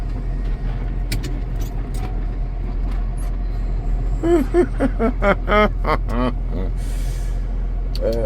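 A Massey Ferguson tractor creeps down a steep hill in four-wheel drive and low range. Its engine gives a steady, deep, droning rumble throughout, with voices talking over it partway through.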